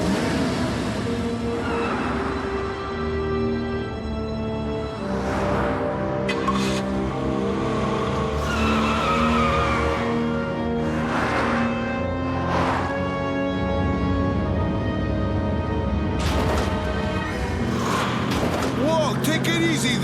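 A rental car driven hard in an animated action chase, engine revving and tires squealing in repeated bursts over a loud continuous roar, with voices and music mixed in throughout.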